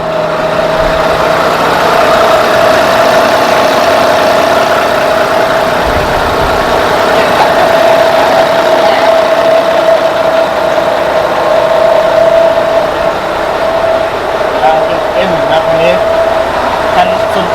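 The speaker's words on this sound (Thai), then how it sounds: "ทำฟังเสียงเครื่องกัน" A Mitsubishi Fuso 240 hp dump truck from 2014–2015 idles with a steady, loud mid-pitched diesel drone and constant hum, running unbroken throughout.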